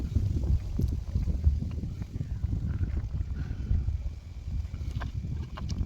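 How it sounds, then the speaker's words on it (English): Wind blows steadily outdoors while an e-scooter is being repaired, a continuous low rumble and buffeting on the microphone throughout, with faint scattered background sounds. "the wind is blowing"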